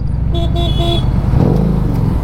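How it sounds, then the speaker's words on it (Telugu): A Harley-Davidson Street 750 motorcycle horn gives three short, bright honks over a steady low engine rumble, close and loud. "దీని హారన్ దాని హారన్ చూడండి ఒకసారి."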